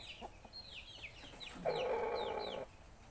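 Rhode Island and Thailander chickens cluck in a backyard flock, with soft repeated clucks and short chirping calls. A longer, louder drawn-out squawk rises partway through, and no one speaks.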